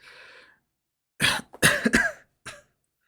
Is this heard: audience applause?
no